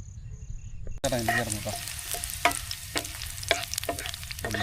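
Onions fry in hot coconut oil, a close, steady crackling sizzle with occasional stirring scrapes that starts abruptly and runs continuously.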